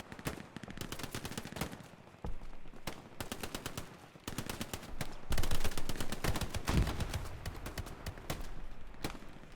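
Rapid machine-gun bursts and single rifle shots crackle through a World War II battle on Omaha Beach in the game Hell Let Loose, with close, loud volleys coming in irregular clusters.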